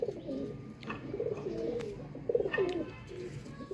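Pigeons coo softly nearby, a few low rolling coos rising and fading over a quiet background, with faint chirps here and there.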